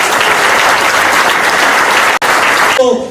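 Loud, dense audience applause for the fire department at a community event, a steady wall of clapping that cuts out abruptly near the end.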